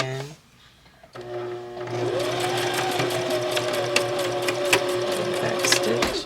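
A sewing machine runs continuously while stitching the facing along the edge of a button-up hooded poncho, a steady close whirring hum with rapid needle ticking that starts after a short quiet moment.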